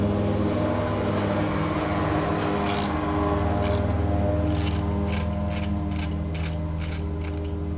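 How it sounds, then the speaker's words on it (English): A hand ratchet removes lug nuts on a 2017 Icebear Maddog 150cc ATV, rapid clicking bursts in a quick series close up over a steady background hum, no talking. "And then I can switch back to this guy, take this one off."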